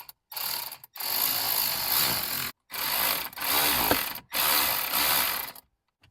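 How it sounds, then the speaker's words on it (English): A hand ratchet tightens a fastener in the engine bay of a 2011–2019 Ford Explorer Police Interceptor Utility, sounding as several bursts of rapid clicking with short pauses between them, close and alone. "I'm going to see if I can help it pull up by tightening one of the fasteners."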